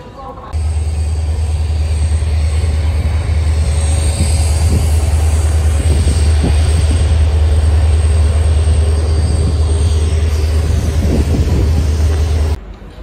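Train noise at Vadodara railway station on a journey toward Ahmedabad, a loud steady low rumble and hum that runs almost the whole time, with no talking.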